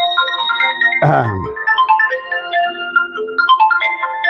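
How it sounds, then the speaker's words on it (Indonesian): A phone ringtone plays a loud, close melodic tune of repeating tones without pause, with a brief low thump partway through. "ini ada telepon tapi nggak tahu cara mematikannya"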